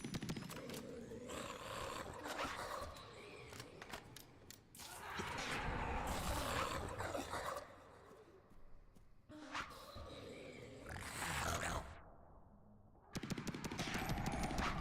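Bursts of automatic gunfire and roaring mechanical noise from the video game El Paso, Elsewhere, coming in loud waves separated by short lulls, with heavy rapid shots and no clear talking.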